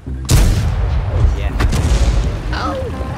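A tank cannon in World of Tanks fires one heavy, booming shot that rumbles and decays for a couple of seconds, with a player speaking over the echo.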